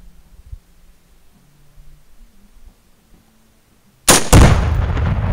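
A Tannerite target is shot at night and detonates in one sudden, very loud blast after several seconds of quiet low hum, followed by a heavy rumbling boom that lingers to the end.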